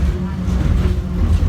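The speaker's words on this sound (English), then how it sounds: "the subway train, I love this subway train too" Subway train running fast on the ride back to Terminal D/E, a steady low roaring rumble heard from inside the car, loud and continuous with no breaks.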